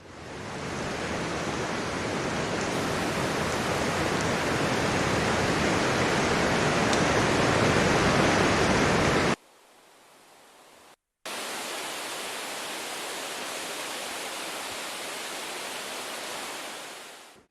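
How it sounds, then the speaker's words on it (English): Two layered forest field recordings form a dense, steady broadband wash of outdoor ambience, broken by a short drop to near silence before the bed resumes at an even level. "So here I used two different forest recordings that have different feels and tones and work well together to create a consistent background."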